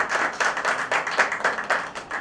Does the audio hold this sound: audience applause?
yes